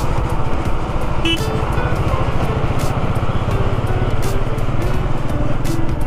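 A motorcycle rides past a long line of trucks on the road from Jammu to Srinagar, its engine a loud, continuous drone under rushing wind and road noise.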